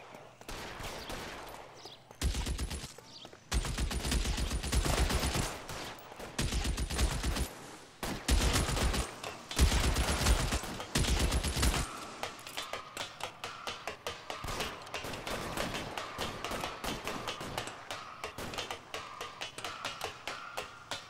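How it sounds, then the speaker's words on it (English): Machine gun fire in L.A. Noire Remastered, long rapid bursts of close, loud automatic shots broken by short pauses, then a steadier rattle of quicker, lighter firing. "Shooter has a machine gun."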